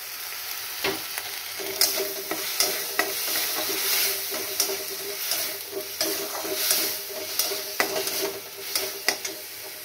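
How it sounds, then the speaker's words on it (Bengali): Grated, blended tomato frying in a pan while being stirred, a moderate sizzle with regular scraping strokes and light clinks of a spoon against the pan, no talking. "একটু কাঁচা গন্ধটা যাওয়া পর্যন্ত আমাকে এইভাবে একটু নাড়তে হবে"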